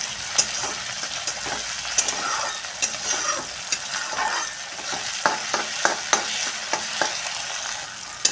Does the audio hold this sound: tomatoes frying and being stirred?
yes